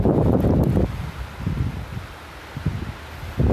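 Strong Denver blizzard wind in March buffets the microphone in heavy low gusts, loudest at the start and end, easing in between, with no voices.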